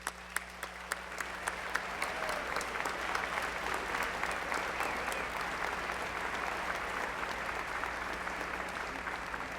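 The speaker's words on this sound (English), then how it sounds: "we can give them a round of applause" An audience at a Pacific University Na Haumana O Hawaii lu'au claps in sustained, steady applause, a dense crackle of many hands that holds evenly for several seconds with no talking.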